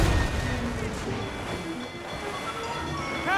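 Ship cannons fire during a naval battle in Assassin's Creed Rogue, with a heavy boom at the start and then rumbling, crashing reverberation and clattering noise carrying on behind.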